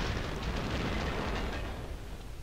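A grenade explosion in Medal of Honor: Allied Assault, a dense, loud, rumbling blast that fills the whole short stretch and fades slightly at the end, with no talking.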